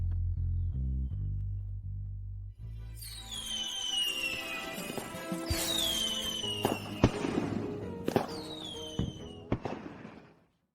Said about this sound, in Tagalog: Ang ganda talaga ng mga paputok na ito.